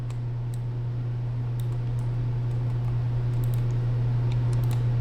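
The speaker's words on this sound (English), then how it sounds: "I told y'all I'd just be clicking." A computer keyboard and mouse click in quick, irregular bursts, close and crisp above a steady low electrical hum, with no voices.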